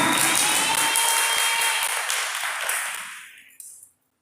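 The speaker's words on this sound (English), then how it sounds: "would you give Captain Farmer a round of applause?" Loud applause from a crowd, sustained and dense, then tapering off and ending with a few last claps.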